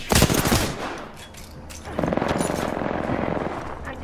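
Rapid gunfire from Apex Legends: a loud, dense opening volley, then a brief lull and a second sustained stretch of automatic fire close up, with no talking.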